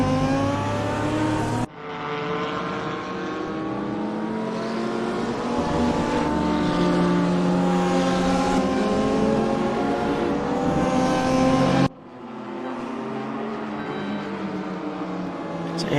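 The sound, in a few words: racing cars on track in sim racing video game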